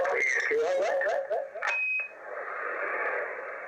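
Sideband transmission from an Anytone 6666 radio with echo effect, a warbling, distorted voice-like signal with tonal sweeps that cuts off into a steady hiss of open-channel static, loud and close.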